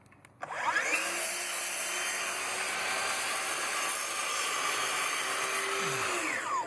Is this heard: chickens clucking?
no